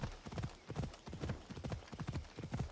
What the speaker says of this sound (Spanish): Está ahí el caballo, ok